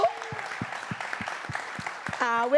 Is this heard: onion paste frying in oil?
no